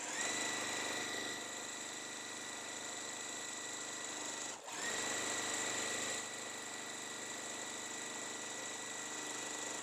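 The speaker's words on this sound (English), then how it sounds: "I'm just going to sew 1/4 inch apart" A sewing machine stitches a quarter-inch seam on a quilt block, running in a loud, close, continuous mechanical whir with one brief dip partway through.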